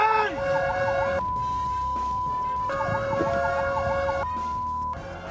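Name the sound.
fire truck siren and horn honking at a rider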